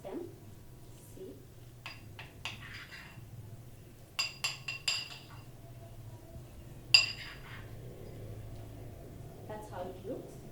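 Cake ingredients mixed in a metal baking dish, sounding as scattered light clinks and scrapes of a utensil against the dish, some in quick clusters, over a low room hum.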